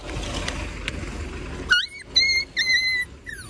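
Dogs close to an MSRTC bus on the Kumbharli Ghat road between Chiplun and Karad, a burst of sharp barks and yelps over a low engine rumble.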